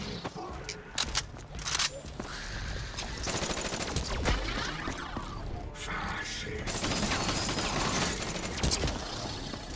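Death Machine gun in a zombies video game firing in long rapid bursts, loud and continuous with brief pauses, mixed with other game noise and occasional voices.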